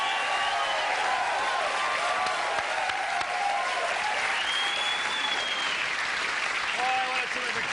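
A studio audience at The Letterman Show claps and cheers for Jay Leno's entrance, a dense sustained wall of applause lasting throughout, with a band playing faintly beneath.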